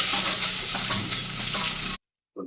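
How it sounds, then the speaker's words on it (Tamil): Chopped onion sautéing with popped mustard seeds in hot oil, a close steady sizzle with stirring that cuts off abruptly, followed by a brief faint sound. "வெங்காயம் சேர்த்துட்டு நல்லா வந்து மிக்ஸ் பண்ணிக்கலாம்"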